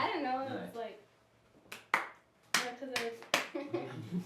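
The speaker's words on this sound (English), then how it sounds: "Somebody clap for me." A handful of sharp, scattered hand claps at a surprise 50th birthday gathering, isolated single smacks rather than sustained applause, following people talking.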